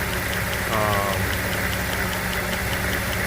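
A 2004 Jeep Grand Cherokee WJ engine idles steadily with a low, even rumble and faint rhythmic ticking, continuous throughout with no voices; the engine has a stalling-at-idle fault.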